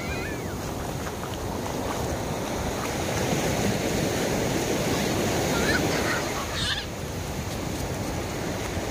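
Sea waves wash along the shore at Thien Cam beach in Ha Tinh, a steady broad rush that swells slightly in the middle, with faint bird-like chirps and distant sounds over it.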